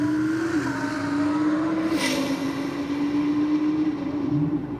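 A Lamborghini makes a solo roll-race run, its engine note climbing in a steady, loud, sustained acceleration that holds a strong, rising drone throughout, with no talking over it.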